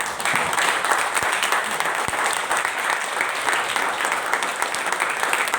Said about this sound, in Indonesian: Mari jemaat berdiri, berikan aplaus buat mereka semuanya.